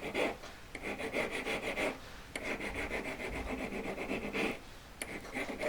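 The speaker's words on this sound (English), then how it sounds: "I'm looking to only file where the solder is, not filing all around it trying to blend it in." A metal file rasps over solder on a metal cap ring in rhythmic back-and-forth strokes, three longer bursts separated by brief pauses, close and clear with no talking.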